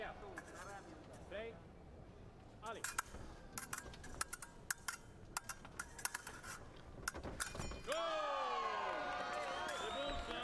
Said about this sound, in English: the supporting crowd for the reigning world champions, audibly noticeable there